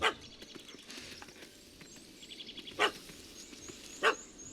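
A dog in The Witcher 3 gives a few sharp, separate barks at a moderate distance, spaced over a few seconds against quiet outdoor ambience.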